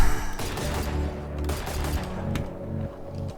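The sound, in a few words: Valorant Guardian rifle gunfire with Prime skin, video game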